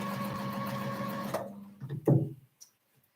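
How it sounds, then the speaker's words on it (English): A sewing machine stitches fabric bins in short bursts, a steady mechanical whir that stops partway through, followed by a few close clunks and handling knocks, then quiet. "line it up, sew a little bit, line it up, sew a little bit, line it up, sew a little bit"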